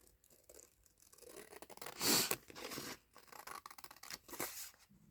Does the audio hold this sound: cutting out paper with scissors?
yes